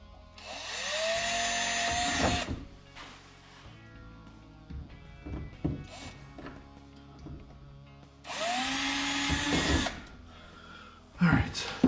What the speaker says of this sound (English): So I'm gonna go ahead and drill these holes.